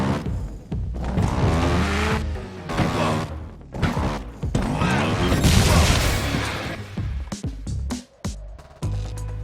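Motorbike run on a custom track in Trials Evolution: continuous revving engine with rising and falling pitch, crashes, thuds and impacts from triggered explosive events, loud and busy throughout with no talk.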